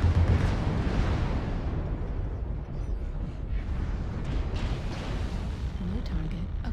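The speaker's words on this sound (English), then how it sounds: "Incoming artillery." Artillery shells exploding in the MechWarrior Online video game, a sustained rumbling barrage of deep booms that stays loud and dense throughout, with a heavier blast at the very start.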